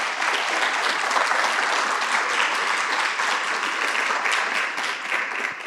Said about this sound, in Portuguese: Tu pode aplaudir o Senhor Jesus por causa disso?